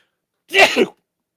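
One quick, close sneeze bursts out in two parts, surrounded by silence.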